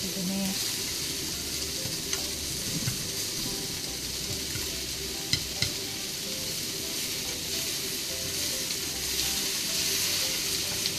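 Pork and cabbage stir-fry in a frying pan, sizzling steadily and loudly up close for the whole stretch, with occasional scrapes and clicks of stirring.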